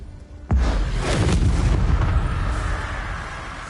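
A Confringo spell blast in Hogwarts Legacy hits with a sudden deep boom after a brief quiet moment, then a rumbling, crackling tail that slowly fades, loud and close.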